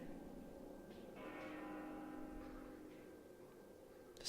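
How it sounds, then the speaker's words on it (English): A bell rings out at Elysium, atop the World Tree, in the video game Xenoblade Chronicles 2, a soft sustained chime fading beneath game music and ambience. "The same bell sound."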